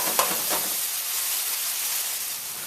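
An orange brown sugar marinade sizzles with plantains in a pan, a loud, steady close hiss with a couple of sharp spits near the start and no talking.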